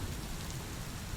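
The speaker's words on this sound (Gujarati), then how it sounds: "વરસાદ પણ ખૂબ વરસે છે" Heavy rain falls in a quiet, even wash of noise with a low rumble beneath, continuous and without any voices over it.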